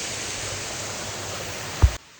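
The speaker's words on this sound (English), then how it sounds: "This is the first waterfall." Steady, broadband rush of a waterfall near Nirmal ghat road in Telangana, loud and close and unbroken, ending with a brief thump before cutting off; no voices.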